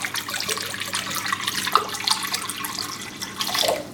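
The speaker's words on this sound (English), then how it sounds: "Just going to open up the water bottle, dump it right in this bowl." Water from a plastic bottle pouring into a mixing bowl for bread dough, a continuous close splashing gurgle with a few sharper plops, loud and alone without talk.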